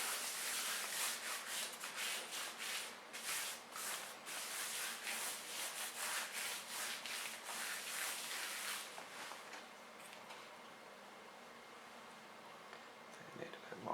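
Hand rubbing something in, a steady run of short broadband strokes for about ten seconds, then fading to quiet hiss; speech is present in the clip.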